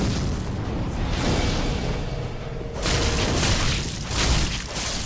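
Firebombs hurled by fire bomber enemies burst in the Dark Souls game, a dense, loud wash of booming, crackling explosions that swells, briefly drops, then surges again, filling the whole stretch without talk.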